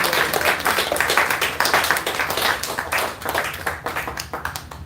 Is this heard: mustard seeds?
no